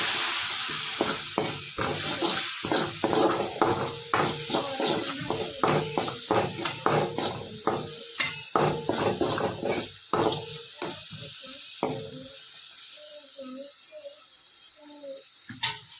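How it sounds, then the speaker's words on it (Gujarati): Water is poured onto homemade spice masala in a hot pan for a sandwich filling, sizzling loudly at first with repeated scraping stirs, then fading into quieter bubbling and occasional clinks. "રેગ્યુલર મસાલા જે ઘરના છે ને નાખી થોડું પાણી નાખી દઈશું મસાલા આપણા સરખા સરસ સોતરાઈ જાય"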